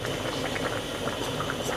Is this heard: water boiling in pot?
yes